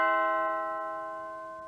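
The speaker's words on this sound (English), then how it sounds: "I hear a doorbell." A single chime-like doorbell tone rings out clearly and slowly fades, sustained and alone without any voices.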